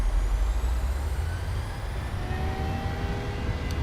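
Airliner engines in Microsoft Flight Simulator spool up toward takeoff power, a steady loud low roar with a faint rising whine above it, heard alone without talk.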